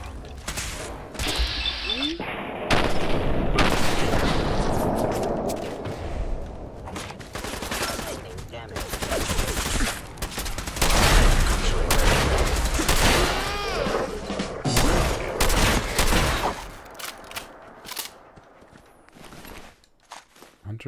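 Submachine gun fire in the game Sim Settlements 2, with bursts of rapid shots, clicking mechanical handling and footsteps scattered across a busy stretch of combat, loud in the middle and thinning toward a quiet end.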